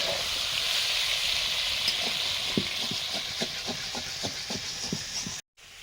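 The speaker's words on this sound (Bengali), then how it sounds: "এখন বেগুন ভাজছি।" Brinjal (eggplant) slices fry in a pan with a steady hissing sizzle and scattered soft pops and crackles, cutting out briefly near the end.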